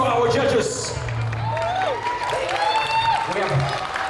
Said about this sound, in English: Your applause for our judges.